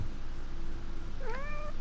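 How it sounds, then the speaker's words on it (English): A pet cat named Lucy lets out a single clear meow near the end, rising then falling, over a steady low hum in an indoor room. "I got jump scared by my cat."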